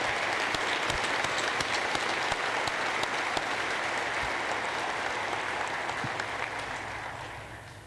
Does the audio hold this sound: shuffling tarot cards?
no